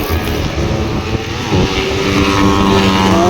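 Racing motorcycles, N4 and R3 classes including 150cc and 300–400cc bikes, scream past on a club race circuit, loud high-revving engines layered and rising in pitch as they pass close by.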